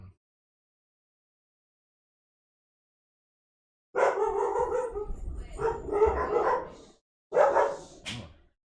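A dog barks in two close, loud bursts of rapid barks and yips after several seconds of silence, with whimpering tones mixed in.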